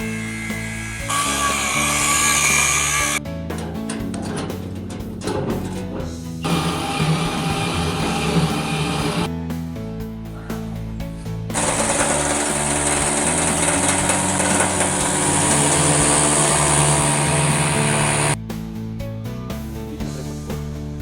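A power tool cuts off a protruding stud inside a small server cabinet during a battery replacement, giving loud, high-pitched whining and grinding bursts that start and stop several times, with short pauses between cuts.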